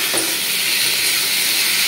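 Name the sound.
fig (dumur) frying in oil with spices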